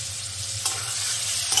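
Ridge gourd being stir-fried with ground chilli paste in a pan, giving a steady close sizzle with stirring scrapes, louder bursts near the middle and end.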